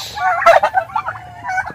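Turkeys gobble nearby in a quick, warbling burst, followed by softer clucks and calls from the flock.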